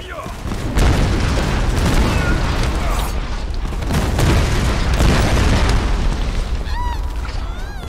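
Cannon fire in the Tomb Raider video game, deep booming blasts and rumbling impacts layered in a dense, loud barrage of game effects.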